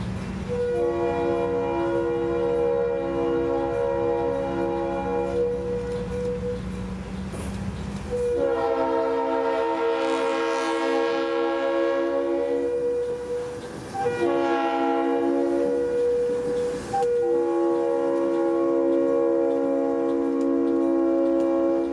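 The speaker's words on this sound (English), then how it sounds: "Returning to Onico and the interchange there is our train, now rounding its last corner before entering the small yard" A Seminole Gulf Railway freight train on the Sarasota Branch rumbles close by, wheels squealing as it rounds a curve into a small yard, with a loud horn sounding in long blasts.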